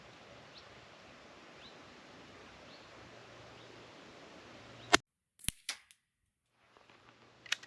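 A single sharp crack from an air rifle firing a pellet cuts through a steady outdoor hiss, followed by a few brief clicks and knocks in the quiet that comes after it.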